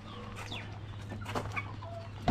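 Hens cluck in short bursts around a farmyard, with a low steady hum underneath and a sudden loud thump at the very end.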